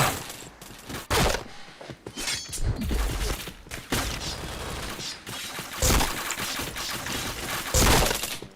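Rapid video game gunfire with repeated bursts and sharp shot impacts, dense and loud throughout with brief pauses between volleys.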